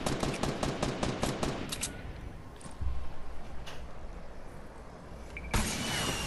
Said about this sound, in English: They're getting sniped at.